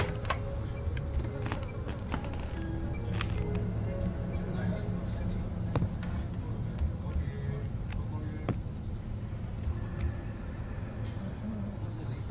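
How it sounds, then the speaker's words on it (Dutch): Flies buzzing in a horror video game, a steady insect drone that stays fairly constant throughout, mixed with game ambience and scattered short noises. "Vliegen alleen maar."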